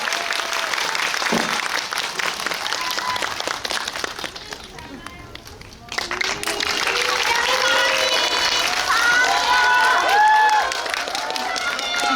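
An audience at a film screening talk event in a cinema gives sustained applause that fills the room. A loud, dense crowd clatter continues while voices speak over it, dips briefly and then swells again.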